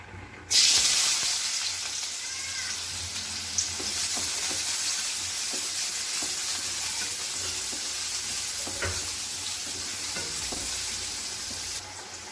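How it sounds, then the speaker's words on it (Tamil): Steady, close sizzling of chopped onions frying in hot oil for pasta, a continuous crackling hiss with occasional stirring clicks, no voices. "இப்போ பாருங்கள், எண்ணெய் நல்லா காஞ்சிருச்சு. இப்போ நம்ம நறுக்கி வச்சுருக்க வெங்காயத்தை சேர்த்துடலாம்."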